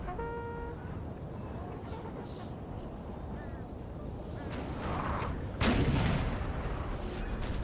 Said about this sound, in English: So for now, artillery duel.